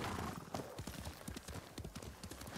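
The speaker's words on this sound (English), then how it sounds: "I might as well just get my horse." Horse hooves clip-clop at a steady trot in Ghost of Tsushima, close and rhythmic over a rough wind-like rumble.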